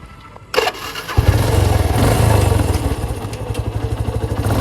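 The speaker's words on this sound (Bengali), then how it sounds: "ইঞ্জিনের সাউন্ড এই বাইকটা অনেকই ক্লিয়ার, অনেকটাই স্মুথ" A Yamaha FZ motorcycle starts with a sharp crank and catches into a close, loud, throbbing engine note, settling into a steady rhythmic idle that pulses evenly to the end.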